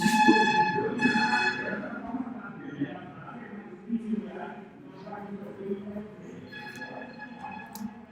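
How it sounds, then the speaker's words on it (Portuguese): A loud horn blares as a sound truck passes, fading into muffled traffic noise, then another horn blast near the end, with voices talking underneath. "Não basta passar o carro de som, tem que passar buzinando"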